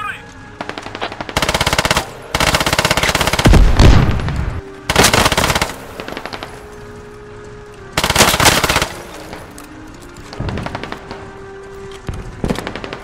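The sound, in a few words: covering gunfire in a video game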